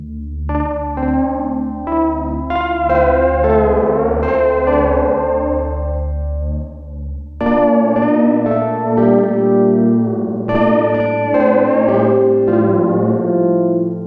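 Gritty, distorted synth tones through an Intensive Care Audio Fideleater lo-fi pedal, with wavering modulation and a noisy, smeared feedback texture, played in long sustained phrases with a brief dip midway.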